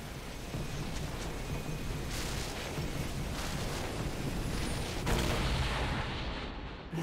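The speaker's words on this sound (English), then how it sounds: "Team's turret has been destroyed." A turret collapsing in League of Legends during a mid-lane Aurelion Sol versus Vex match: a dense, continuous roaring rumble of explosive crashes filling the whole stretch, loud and steady with a sharper surge near the end.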